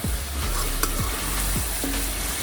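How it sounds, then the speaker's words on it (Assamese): Chicken meat fries in a pan, a steady close sizzle running throughout with a few scraping stirs of a utensil and one brief tap, no voices. "এতিয়া এইফালে মাংসখিনিও অলপ ভাজি ললো"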